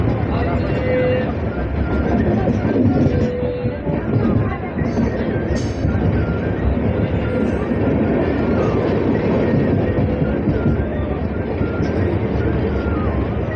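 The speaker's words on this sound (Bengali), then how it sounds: "প্রান্তিক রেল স্টেশন ছেড়ে যাচ্ছে ট্রেনটি" A train pulls out of Prantik railway station with a steady, loud rumble and rattle of rolling wagons that runs unbroken throughout, while voices murmur in the background.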